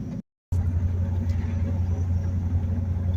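A Corvette rolls along on the road with new front stabilizer end bushings fitted, giving a steady low engine and road rumble from inside the car, broken once by a short dropout near the start.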